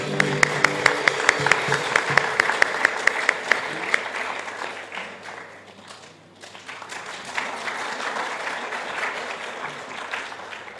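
A church congregation at a Bible seminar in Peru claps in steady rhythm over worship music, then breaks into a broad, sustained round of applause that dips briefly and swells again, filling the room.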